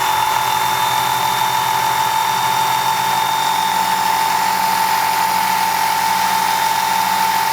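A Work Sharp Ken Onion knife sharpener runs at full speed, giving a loud, steady motor whine with a constant high tone and an even hum, alone and without pause.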